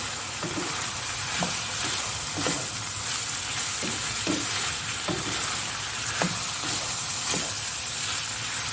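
Liver sizzles steadily in a hot pan as black pepper is stirred in, a utensil scraping and stirring in a regular rhythm, clicking against the pan.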